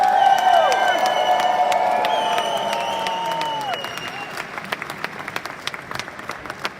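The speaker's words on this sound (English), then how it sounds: "and the crowd goes wild!" A conference crowd claps and cheers over a loud music sting, with whoops mixed in. The music fades after a few seconds, leaving scattered, thinning applause that tapers toward the end.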